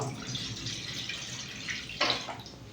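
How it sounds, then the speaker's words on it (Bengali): Water running into a pot for boiling eggs, a steady splashing stream under a faint background hiss, with a brief louder gush toward the end. "ডিমটা আমি সেদ্ধ করে নেবো জল দিয়ে দেবো"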